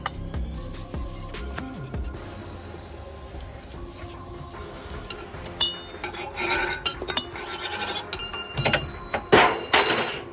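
A Snap-on wrench works loose 9/16 head nuts on a DT466 engine's water pump, giving close, rapid metallic clicks and ratcheting taps that grow busier and louder toward the end.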